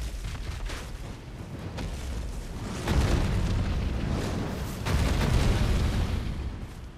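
A dragon attacks in the video game Elden Ring with heavy explosive booms that rumble and roll, with two big swelling blasts over a constant rumble and no voices.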